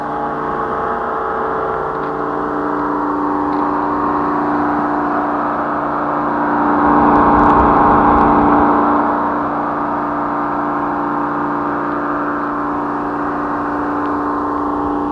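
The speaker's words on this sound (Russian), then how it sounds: "Сейчас у меня а гудит вентилятор, обдувает цилиндры, которые нагрелись." The cooling fan on a homemade quad bike hums steadily as it blows air over hot engine cylinders, a continuous close whir that swells briefly midway.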